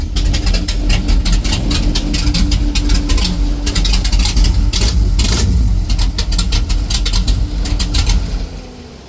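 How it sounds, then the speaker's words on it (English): A 1970 Chevelle wagon's V8 idles with a lumpy, loud rumble and is blipped through several sharp revs, close by and steady, before the engine note drops away at the end. "It sounds like a Chevelle."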